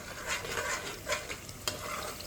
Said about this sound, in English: So just stir the pot and remember to keep the fire down low